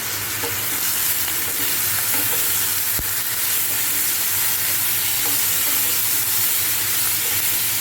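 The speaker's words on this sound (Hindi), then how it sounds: "टमाटर भी डाल दिए जनाब और इनको मैं भूनते जाता हूँ" Tomatoes and garlic fry in a pan for chicken barbecue, a loud, dense, continuous sizzle and hiss close up, with steady stirring throughout and no voices.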